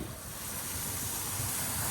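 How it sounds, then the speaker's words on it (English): Water gushes steadily from a garden hose into a barrel planted with a Palo Verde tree, a continuous broadband rushing hiss that builds slightly over two seconds, close and loud with no talk. "I'm going to turn the water on."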